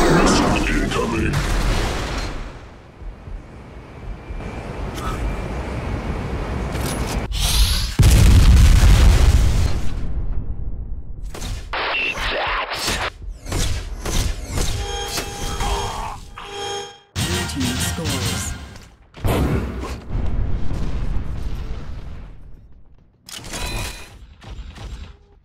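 Missile explosions in the video game Unreal Tournament land as a string of loud booms and bursts, one very heavy blast in the middle, followed by scattered gunfire-like pops, with in-game announcer voice lines over the action.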